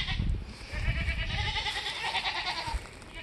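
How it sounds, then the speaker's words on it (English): Goats bleating on a farm, several loud close calls in quick succession with a wavering, nasal tone, heard alone without speech. "These goats are about to drive me crazy today."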